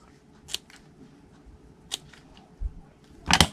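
Scissors trimming the ends of shimmer ribbon, three or four crisp close snips spaced apart, with light handling noise and a final quick double cut in a quiet room.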